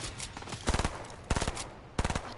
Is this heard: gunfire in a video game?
yes